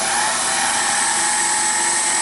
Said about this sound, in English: Turn on the mill.